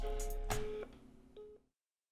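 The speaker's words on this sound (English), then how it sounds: "Right, it's ringing, it's ringing." A phone call ringing tone heard through a handset: a short burst of ringing, then a second briefer ring, fairly faint, ending in silence with no one talking.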